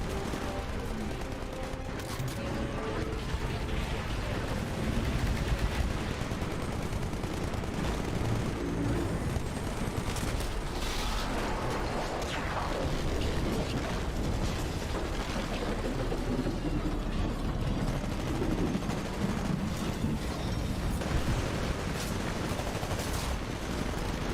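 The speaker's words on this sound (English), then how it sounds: "We're being targeted by our own gun." An outpost cannon array firing in the game Titanfall, heard as dense, continuous gunfire and heavy booming volleys that stay loud throughout a chaotic battle, with occasional voices under the noise.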